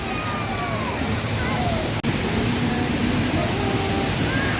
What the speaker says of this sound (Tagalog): Ito po yung waterfall sa amin.